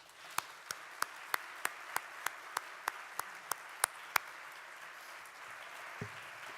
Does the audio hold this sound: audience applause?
yes